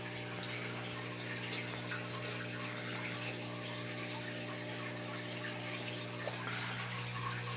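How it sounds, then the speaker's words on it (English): Water from small siphon hoses pours steadily back into a 50-gallon acrylic fish tank, a constant close trickling rush over a steady low pump hum, with no speech. "I have some other smaller hoses siphoning the water"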